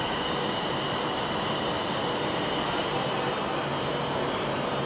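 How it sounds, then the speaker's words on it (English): Class 350 electric train pulling out of Milton Keynes Central toward London Euston: a continuous broad rumble and rolling rail noise with a faint whine, steady and fairly loud throughout. "a 350 is heading off to London Euston"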